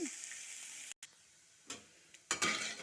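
Frying in a pan for a sweet corn and carrot rice dish, a faint, low sizzle cut by a brief silence and a few scraping stirs near the end, close but quiet with no talk.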